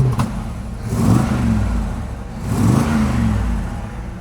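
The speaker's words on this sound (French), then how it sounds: "je vais mettre un ou deux coups de gaz, je pense qu'on est pas mal." An R32 turbo car with a double exhaust gets two blips of the throttle, each a short revving swell that rises and falls, close and fairly loud over a steady idle.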